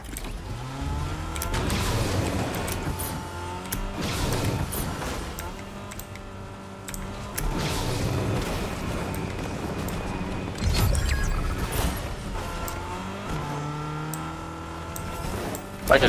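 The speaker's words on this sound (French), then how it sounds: "Oh tiens, j'ai la voiture de Dark Maul." A car engine in Fortnite revs and shifts through gears repeatedly, rising and falling in pitch, loud and close with mechanical rattles.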